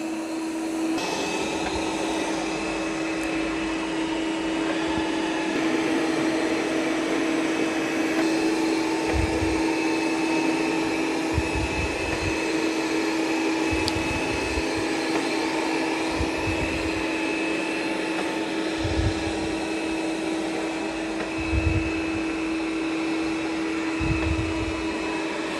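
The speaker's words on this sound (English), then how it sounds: "So now it's going to start vacuuming in straight lines." A budget robot vacuum cleaner hums close and steadily for the whole stretch, a constant motor whine with occasional soft low bumps as it works across the floor in straight lines.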